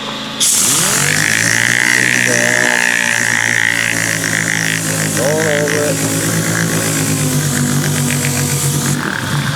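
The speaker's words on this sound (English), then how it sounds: "start DAing off the top of this roof just to see if, you know, I'm going to have any issues to deal with" A dual action air sander with 180 grit paper spins up and works across the steel roof of a 1957 Chevy two-door hardtop being converted to a Nomad, a loud, close, continuous whine and rasp with shifting pitch throughout.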